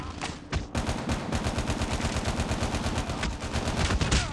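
Rapid automatic gunfire in Call of Duty Mobile, a gun game match on the Crash map, runs loud and steady with tightly spaced shots throughout after a brief opening burst.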